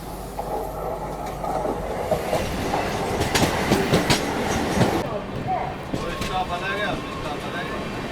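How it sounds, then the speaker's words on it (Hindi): The LTT Mumbai–Bhopal superfast express runs through Diva Junction without stopping, with a steady rolling rumble and rhythmic clickety-clack of wheels over rail joints, loud and close throughout. "अभी दीवा जंक्शन स्किप कर रही है अपनी ट्रेन"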